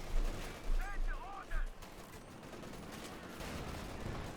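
Heavy .50 cal machine gun fire in the strategy game Company of Heroes 2, a few short low bursts in the first two seconds under a commentator's voice, then a steady battle din.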